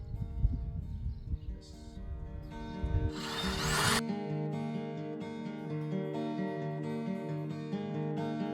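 A power drill bores holes in wood while a seedling potting tray is being built, with a short burst of scraping and drilling followed by a sustained whirring motor tone, close and moderately quiet, no talk.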